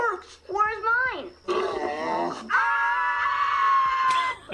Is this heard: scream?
yes